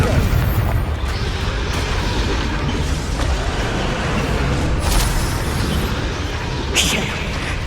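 A Confringo fire spell blasts in the video game Hogwarts Legacy amid a dense, continuous roar of rumbling battle noise, with a few sharper bursts standing out.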